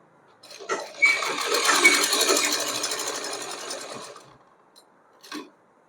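A sewing machine stitches along the fold of Afghani-style pants, a short tap then a continuous whirring run of about three seconds that fades out, followed by a brief separate mechanical knock.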